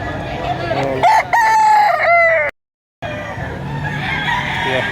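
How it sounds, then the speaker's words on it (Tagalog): A rooster at a Filipino poultry market for quality fowl lets out one loud, close crow, then the busy market hum carries on after a brief cut. "dalawang magagandang mga manok ito"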